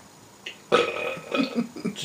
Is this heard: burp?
yes